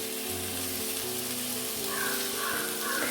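Prawns sizzle steadily in a frying pan while being roasted, a dense, even crackle of hot oil that runs continuously at close range with no voices.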